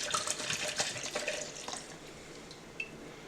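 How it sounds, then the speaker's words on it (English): Vodka pours and splashes steadily into a container, a soft continuous trickle close by that thins out toward the end. "I measure vodka and I will pour it in"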